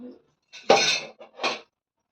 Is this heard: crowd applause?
no